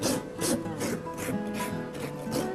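A farrier rasps and dresses a horse's hoof, giving close, steady back-and-forth rasping strokes in a regular rhythm.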